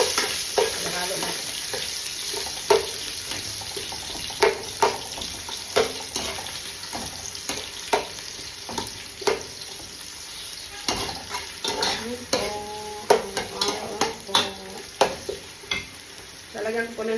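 Garlic and onion stir-fry in a pan with a continuous hiss of frying, punctuated by frequent rhythmic spatula scrapes and taps against the metal that grow busier toward the end, with no voices.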